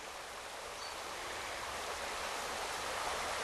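River flowing beside a country walking path in North Yorkshire, a steady broadband rush of moving water, close and continuous with no voices.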